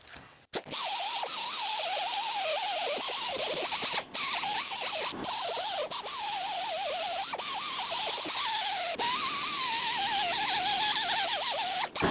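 Power tool spinning a Scotch-Brite roll-lock disc that strips paint from the side of a 1984 Dodge Ram, a loud, close, continuous whirring grind with wavering pitch and a few brief stops.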